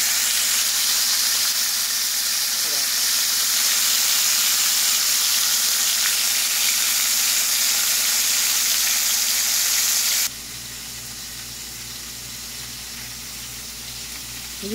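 Burger patties sizzle steadily in a frying pan just after flipping, a loud, continuous frying hiss that runs unbroken before dropping to a quieter, softer sizzle near the end.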